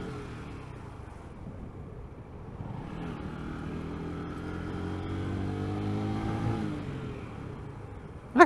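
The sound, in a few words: ZSB motorcycle engine running at low RPM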